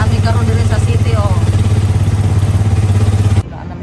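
A motorcycle rides through city streets, its engine a steady loud low drone with clattering road noise; faint voices sound in the background before the engine sound drops away near the end.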